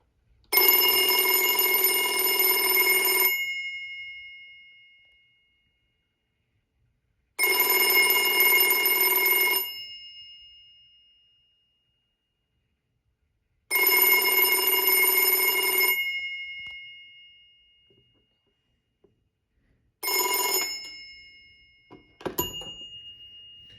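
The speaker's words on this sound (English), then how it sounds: "the best part of this telephone is finally hearing it ring" An old Autophone Aristocrat FL50 telephone from England rings its bell loudly in three long bursts with pauses between, then a brief fourth burst, followed by a faint clunk.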